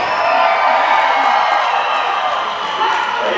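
Rodeo crowd in the stands at a Black Hills Stock Show bronc riding long-go, a steady roar of cheering and whoops, fairly loud and continuous, with a slight dip before swelling again.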